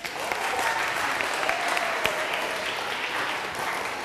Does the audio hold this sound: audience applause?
yes